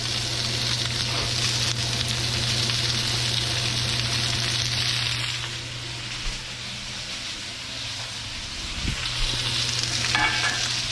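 Vegetables for sweet and sour chicken sizzle steadily in a non-stick pan, a continuous close frying hiss with a low hum beneath, easing slightly midway and briefly stirred near the end, no talking.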